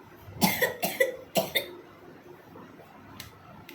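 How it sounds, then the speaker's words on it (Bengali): A short burst of four or five sharp coughs in quick succession, close by, followed by quiet. "আমার তো কাশি চলে আসছে"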